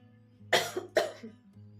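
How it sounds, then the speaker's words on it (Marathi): Two sharp coughs close together, close-up in a quiet room with a low steady hum underneath. "मध्ये मध्ये मध्ये खोकला पण आहे"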